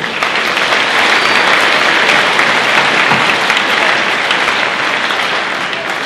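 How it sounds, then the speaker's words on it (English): A school audience at a Marist walkathon event gives sustained, loud applause, a dense even wash of clapping from many hands that holds steady throughout. "can we give them a round of applause?"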